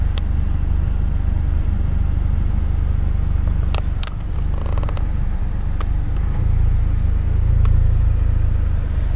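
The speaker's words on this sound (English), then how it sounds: "You can hear the car just purring away even while we're here in the interior." The engine of a 2009 Mitsubishi Lancer Ralliart idles in a steady low rumble heard from inside the cabin, with a few faint clicks and creaks over the smooth hum.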